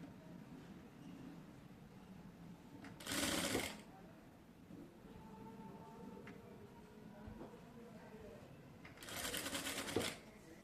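Sewing machine stitching designer pants, two short loud bursts of rapid mechanical whirring a few seconds apart, with quiet handling noise and faint room sound in between.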